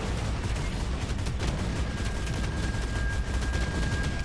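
Gunfire in the shooter game Shadowgun Legends, a dense, continuous spray of rapid shots and blasts, loud and unbroken throughout.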